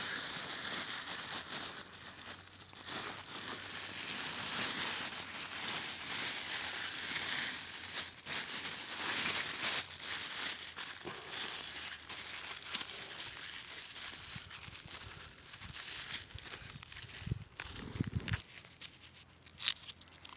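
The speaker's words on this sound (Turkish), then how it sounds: "Çamurumuzun kurumaması için de tekrar poşetle sarıyoruz." A plastic bag crinkles and crackles as it is wrapped around a fresh pear tree graft sealed with mud. Continuous rustling and crumpling runs throughout, ending with a few louder handling bumps.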